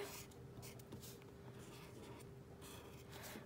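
Pen or marker writing a label on paper, soft scratchy strokes in short bursts over a steady low hum, close and quiet with no talking.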